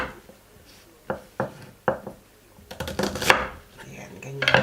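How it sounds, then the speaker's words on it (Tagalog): A knife slices a small onion on a cutting board, giving several distinct close knocks at an uneven pace, then a quicker cluster of cuts with faint rustling. "Hiwain natin. Maliit lang na onion to."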